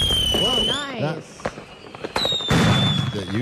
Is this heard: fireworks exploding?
yes